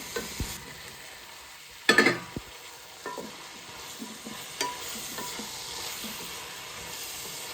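Chopped tomatoes and softened onions in a pan for chicken biryani, with low sizzling under sporadic scrapes and knocks of a stirring spoon, one sharper clatter standing out, close and fairly quiet.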